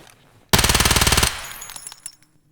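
Automatic gunfire in Escape from Tarkov: a loud, rapid rattle of a dozen-plus evenly spaced shots, then a fading echo with scattered metallic clicks.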